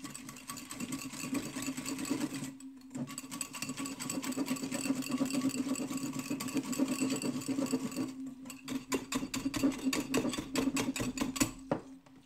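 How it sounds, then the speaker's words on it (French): Eggs and sugar are beaten with an electric mixer, a fast steady whirring buzz that runs throughout, with two brief pauses where the beaters stop before starting again. "Ensuite, je vais battre le sucre avec les œufs."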